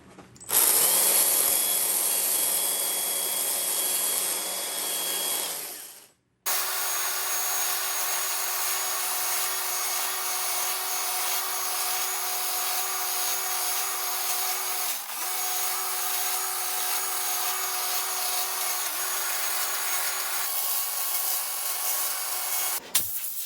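A chainsaw roars steadily and close up, cutting lines around a tree for carving, with a brief drop near six seconds before the engine revs back up and keeps running continuously.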